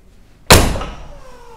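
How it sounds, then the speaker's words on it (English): A Mercedes G63 AMG door, Hofele Limited edition, shuts with a single loud, solid slam close by, followed by a short fading ring and no voices. "And if you close the door,"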